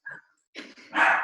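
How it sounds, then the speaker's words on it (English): A dog barks a few times at close range, short sharp bursts with a louder cluster at the end, breaking in over an online group discussion. "Sorry about the dog."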